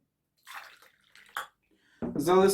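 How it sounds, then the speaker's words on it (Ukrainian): Potassium permanganate solution poured over tomato seeds, with small intermittent splashes and then a louder, fuller trickle of liquid near the end, close by. "заливаю е, на 15 хвилин марганцовкою"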